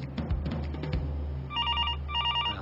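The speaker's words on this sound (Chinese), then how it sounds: "谁都行，去接一下电话好吗？" An office telephone rings in two electronic bursts of trilling tones, sounding moderately loud over a low background hum that fills the first half of the moment.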